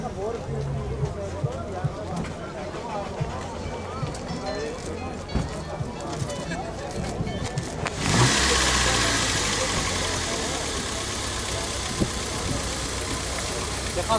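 A car engine cranks and catches at an outdoor used-car market in Tajikistan, then settles into a steady idle rumble, with crowd chatter and voices throughout.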